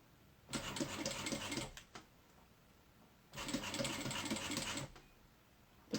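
Sewing machine stitching a mini backpack with rainbow thread, two steady whirring runs of rapid needle chatter separated by a short pause, close and fairly loud, with no talking.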